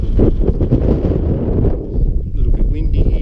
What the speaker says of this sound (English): little bit windy here. Don't know if that's picking up on the GoPro